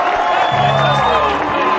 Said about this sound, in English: they've scored a try, and the crowd goes up